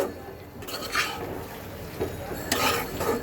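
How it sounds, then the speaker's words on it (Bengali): Malabar spinach leaves being stirred in a cooking pan, giving soft scraping and clinks of a utensil against metal with a faint sizzle, a few louder bursts of stirring spaced across the short stretch. "পুঁই শাকের পাতা দিয়ে খুব বেশি কষানো কিছু নেই জাস্ট দুই এক মিনিট একটু নেড়ে দেব"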